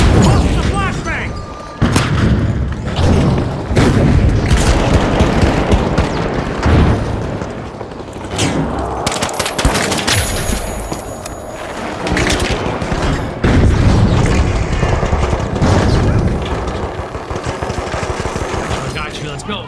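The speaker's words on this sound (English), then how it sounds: "Throwing sonar grenade" Flashbang and sonar grenade blasts in a multiplayer shooter match, with repeated loud booms and bursts of gunfire layered over dense battle noise, and a voice talking intermittently throughout.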